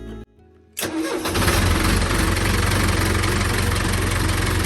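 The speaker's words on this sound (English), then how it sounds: "The engine finally roared to life and worked perfectly." A boat's diesel engine, primed with fuel starter sprayed on the injectors, cranks briefly after a quiet moment, then catches and settles into a loud, steady, close running rumble.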